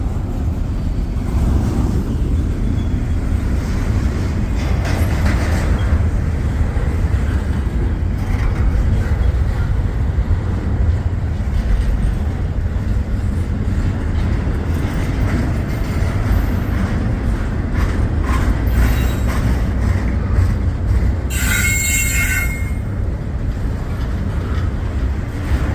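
A long freight train passes nearby with a sustained loud rumble and rhythmic wheel clatter, and a brief high squeal rises near the end.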